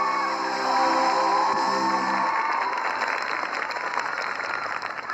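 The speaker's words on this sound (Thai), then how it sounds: "ขอเสียงปรบมือดังๆให้กับพวกเขาทั้งหมดเลยนะฮะ" A studio audience at a televised Thai singing competition applauds steadily for several seconds, a dense patter of clapping that holds fairly loud throughout.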